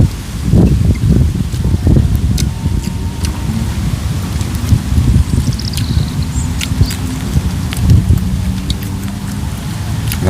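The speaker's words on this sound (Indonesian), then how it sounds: "Nah, memang hujan mah." Steady rain falls throughout, a dense broadband wash with scattered sharper drop hits and rustling, with faint low rumbles; no talk.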